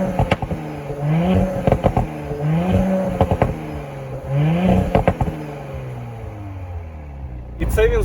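An Audi SQ5 idles with a low, steady engine and exhaust rumble running beneath a voice speaking throughout, ending in a brief louder burst.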